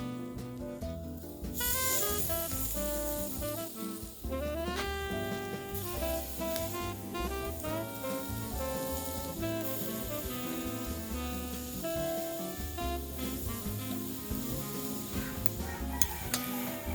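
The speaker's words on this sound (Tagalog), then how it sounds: "Dapat naririnig mo nagsisisal yung hiniihaw mo habang pinapatong mo siya." Tiger prawns sizzling on a very hot grill, a continuous close crackling hiss with occasional clinks of utensils, accompanied throughout by a steady tonal background.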